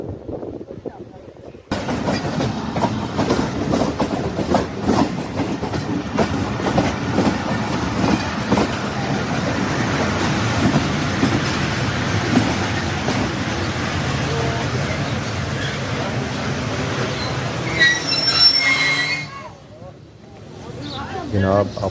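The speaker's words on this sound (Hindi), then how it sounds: "ट्रेन भी नज़र आ चुकी है और स्टेशन के नज़दीक आ रही है।" A long passenger train bound for Karachi rolls into Rawalpindi Chaklala railway station with a loud, steady rumble and clatter that builds for most of the stretch, then drops away near the end, with talk mixed in.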